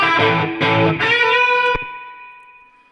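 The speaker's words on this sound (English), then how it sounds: "Now suddenly that mono guitar signal sounds really, really full." A mono electric guitar plays a few chords, then a single struck chord rings out with a long, fading reverb tail.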